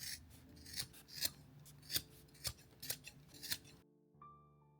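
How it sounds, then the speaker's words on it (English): Scissors snip through excess fabric while sewing a soup bowl cozy, about eight crisp close cuts in a steady rhythm with no talking, then the sound drops to near silence. "Trim the excess fabric to reduce bulk."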